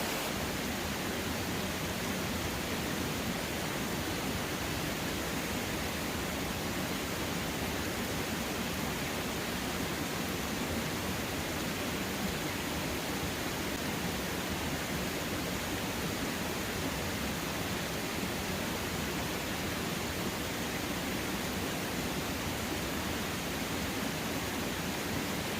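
A creek flows through a foggy, mossy forest with ferns, producing a dense, steady rushing wash of water that stays constant and unbroken throughout, with no voices.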